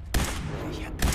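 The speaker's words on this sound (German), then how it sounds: "Schieße ich mir da mal den Kopf ab, Junge." Two loud gunshots from a Fallout 4 firefight, close and sharp, about a second apart, each with a brief echoing tail.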